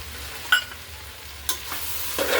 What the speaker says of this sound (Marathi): छान मिक्स करून घेऊ दह्याला।